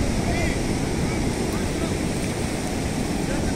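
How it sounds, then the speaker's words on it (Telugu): Ocean waves wash up a beach shoreline at a sunset viewpoint, a steady close roar of surf mixed with wind buffeting the microphone throughout, with no clear breaks between swells. "అలలో ఇక్కడ వరకు వస్తున్నాయి, ఇక్కడ వరకు వస్తున్నాయి"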